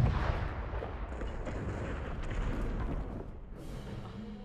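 In a VR sailing video game, a ship's cannon fires a single heavy boom at the start, then a rolling low rumble fades away, fairly quiet overall with no talking.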